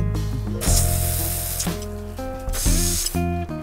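A garden hose nozzle sprays water in hissing bursts that start and stop several times over a few seconds, close to the listener, with a tonal mechanical whine underneath.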